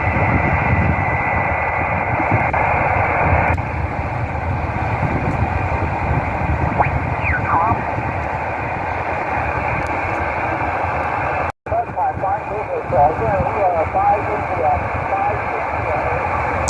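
Amateur radio stations received on a Yaesu FT-817ND transceiver operating QRP portable with a speaker-wire antenna during a winter field day: steady hiss and static with faint, garbled voices and tones throughout, briefly cutting out near the end.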